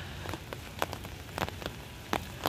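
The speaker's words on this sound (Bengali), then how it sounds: "অনেকটা জোরেই পড়ছে বৃষ্টি" Steady rain falls hard at Rabindra Sarovar lake in Kolkata, a dense outdoor hiss with scattered louder drops pattering nearby.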